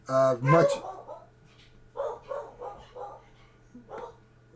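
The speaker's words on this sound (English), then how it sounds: "That's my dogs in the background." Several dogs in a house bark in short bursts, some with whimpers and yips mixed in. A loud cluster comes first, then scattered barks further off over a low steady hum.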